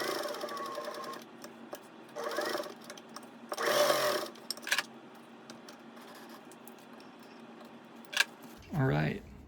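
Vintage Singer 201-2 with a potted motor stitching through two layers of denim, its motor whirring in short bursts of a few seconds with pauses between and brief rattles at the end.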